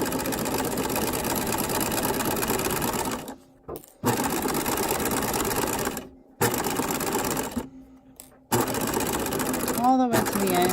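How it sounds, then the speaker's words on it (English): A sewing machine stitching a standard seam through fabric runs in a steady, fast mechanical whir, broken by several short pauses before it starts up again, close and loud. "I'm going to just sew, like I did before, a standard seam."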